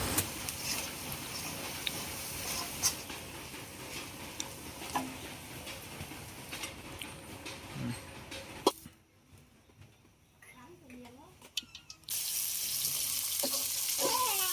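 Native chicken meat sizzles steadily in a pot for biryani, a dense crackling fry with small pops and ticks that drops to a quieter simmer for a few seconds before the sizzle returns at full strength.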